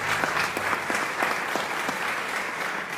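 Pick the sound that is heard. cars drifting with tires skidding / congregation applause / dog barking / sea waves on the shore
congregation applause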